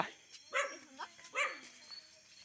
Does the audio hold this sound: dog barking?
yes